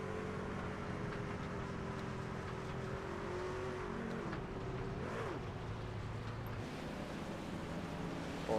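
A pace car circles the track at a night racing-series event, its engine a steady, continuous drone with a brief rising pass partway through, heard alone at moderate volume.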